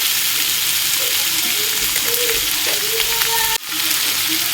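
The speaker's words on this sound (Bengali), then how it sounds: "আলু আর করলাটাকে একটু হলুদ আর নুন দিয়ে ভালো করে ভেজে নেব" Potatoes and bitter gourd fry with turmeric and salt in a pan, a steady, close, continuous sizzle with occasional stirring scrapes and one abrupt brief dropout near the end.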